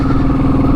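A Royal Enfield 350 motorcycle labours up a long, steep hill in third gear, its engine a loud, steady, close drone without pause for under a second, no voices.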